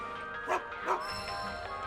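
Dog in Final Fantasy VII Rebirth giving two short bark-like yips in quick succession over soft game music, with a faint tonal chime lingering afterward.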